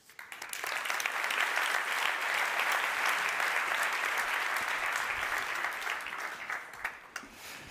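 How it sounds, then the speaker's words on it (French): Audience at a regional economic forum in Vaud, 2025, applauds a speaker's introduction. The dense clapping swells in quickly, holds steady and loud for several seconds, then thins into scattered claps at the end, with no talking. "Merci d'applaudir"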